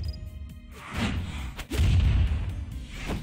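A heavy explosion in a Super Smash Bros. Brawl tournament match, loud booming bursts with a deep low rumble, then a sustained roar around the middle of the clip and a final crack near the end.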